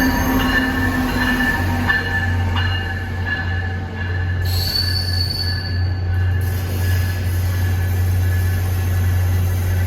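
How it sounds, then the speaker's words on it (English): Passenger train 93 bound for Norfolk, Virginia pulls out, its loud steady engine drone running throughout, with wheel squeal and metallic screeches rising midway and no voices. "This is train 93 starting his long journey to Norfolk,"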